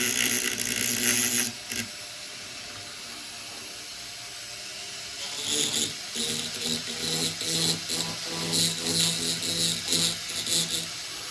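A milling machine cuts a metal key part for a lock, with a harsh grinding whir at the start, a brief quieter pause, then several more seconds of buzzing, uneven cutting.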